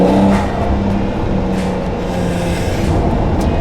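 A Porsche 911 Carrera 4 GTS Cabriolet engine revs and pulls hard under acceleration in Sport Plus mode, a deep throaty roar sustained close by with a few shifts in pitch.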